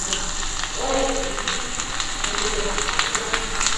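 Sliced garlic cloves dropped into hot ghee and butter with cumin seeds, giving a steady, close, broadband sizzle that holds evenly throughout without a break.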